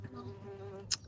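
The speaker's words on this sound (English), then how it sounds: "Look at that bee. He's loving it." A bee buzzes in a garden, a faint, steady drone heard close and alone, ending with a brief louder burst as it passes nearby.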